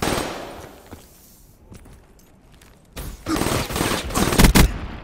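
Automatic gunfire in the Destiny video game, a fast rattling fusillade that swells loud and dense toward the end after a quieter stretch, with no voices.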